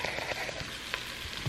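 Onions frying and caramelizing in a pan, giving a steady broadband sizzle that holds at a moderate level throughout, with a few faint clicks and stir sounds and no voices.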